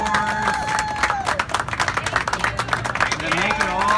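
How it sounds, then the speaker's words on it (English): Round of applause at a Coursera office hours meetup in New York, moderate clapping from a small group, mixed with overlapping voices and a whistling tone. "let's have kind of like a round of applause from the mentors"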